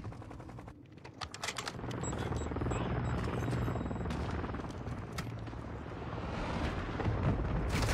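Helicopter rotor in a shooter game amid bursts of machine-gun fire and explosions, a loud continuous roar with rapid gunfire throughout, no talk.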